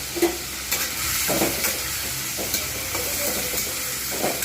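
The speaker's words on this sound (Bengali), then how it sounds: "পটলটা প্রথমে একটু ভালো করে ছোলার সঙ্গে ভেজে নেবো" Pointed gourd and chickpeas fry in oil in a pan with a continuous close sizzle, punctuated by periodic scraping stirs of a spatula.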